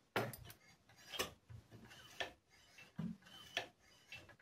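A Grundig 4040W device gives off a soft grinding, rasping scrape in uneven bursts about once a second, fairly faint and close, with no talking.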